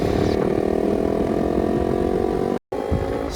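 A KTM RC 390 BS3 motorcycle engine runs close by with a steady, buzzy drone that holds constant throughout, broken by one brief gap of silence near the end.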